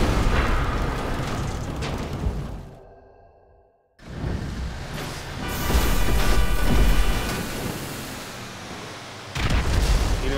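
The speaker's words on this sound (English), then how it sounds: "Explosions everywhere." Explosions in the GTA Online video game boom and whoosh in loud bursts, cutting to near silence briefly before heavy rumbling blasts resume and roll on.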